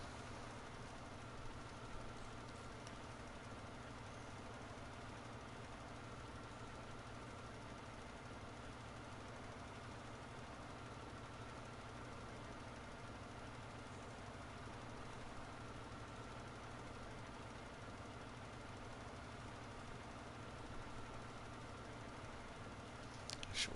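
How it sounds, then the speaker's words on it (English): A tractor engine idles steadily in Farming Simulator 19, a continuous low, even rumble that holds at a faint, constant level with no voices over it. "I love that tractor's idle sound. Do you mean this one?"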